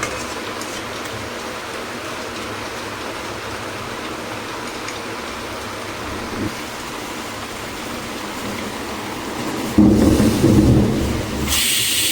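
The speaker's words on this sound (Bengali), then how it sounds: "ভালোই বৃষ্টি হচ্ছে" Heavy rain pours steadily outside a home kitchen, a constant dense hiss that holds throughout, swelling briefly louder near the end as a burst of nearer splashing or dripping rises over the wash.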